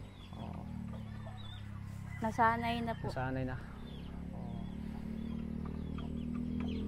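Chickens cluck in short, close bursts near the middle of the clip, set against a steady low background hum while people talk nearby.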